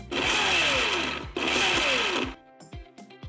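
A Bajaj Glamour mixer grinder whirs loudly as it grinds thandai masala in a two-second burst. The motor cuts briefly and restarts for another burst, then stops with rattling and clinking.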